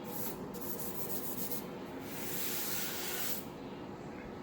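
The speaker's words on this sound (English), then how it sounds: "I'll tack cloth the crap out of that" A tack cloth wipes the body panels of a 1958 MGA being restored, giving a soft, continuous rubbing hiss with a few brief swells, close and fairly quiet.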